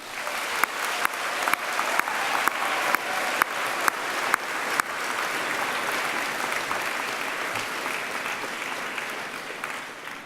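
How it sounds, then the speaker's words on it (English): Graduates at a university graduation ceremony applaud their families and friends, a dense, steady round of clapping from a large hall crowd that runs the full length with no voices over it. "Graduates, please join me in a round of applause to thank all those people who have helped you along the way."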